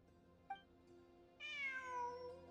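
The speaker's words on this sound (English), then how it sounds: "It really is a cat." A cat meows in the video game Genshin Impact, one long drawn-out, clear meow with a falling pitch. It comes after a brief faint chirp, over a quiet, steady game soundtrack.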